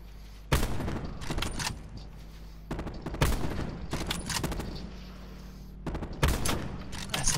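Bursts of gunfire in the Call of Duty Black Ops 4 Blackout battle royale, aimed at a passing motorbike: three loud volleys, each with a sharp onset and a rattling tail, separated by short pauses with a low engine drone underneath.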